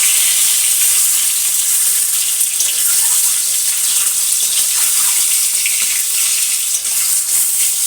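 Garlic, onion and tomato frying in oil in a wok, a loud, dense, unbroken hissing sizzle held close for the whole stretch with faint stirring underneath and no voices.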